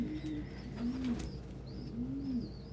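Pet pigeons or doves cooing in a soft, repeated rhythm, a few low coos rising and falling over a steady hum of background noise, with faint higher chirps from other birds.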